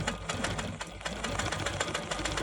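Janome Quilt Maker Pro 20 stitching in the ditch along quilt sashing, guided by a ditch ruler: a rapid, steady mechanical whirr of the needle, near and continuous, with no talking.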